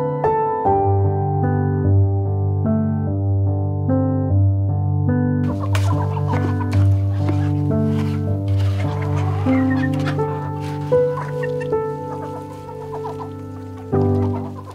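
Pet chickens clucking indoors during a cold snap, close, repeated, pitched clucks and calls in an uneven rhythm, with occasional rustling and brief noises joining partway through.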